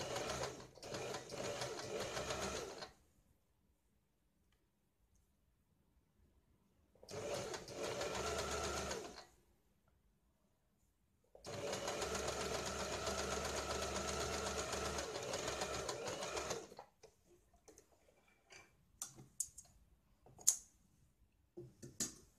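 A sewing machine stitches a blouse in three loud, steady bursts of whirring, separated by pauses of near silence, followed by scattered clicks and handling sounds.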